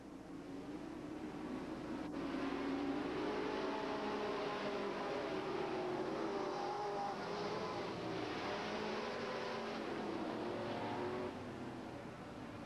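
Sportsman race cars roar around the Hales Corners Speedway oval in a 1988 feature, engines droning continuously and loudly throughout with a steady pack sound and no pauses.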